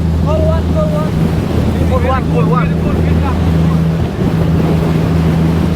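A fast passenger boat speeding toward Lombok drones with a loud, steady engine hum, while buffeting wind and rushing water crowd the mic. Faint voices drift through the noise.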